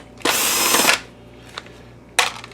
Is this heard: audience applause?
no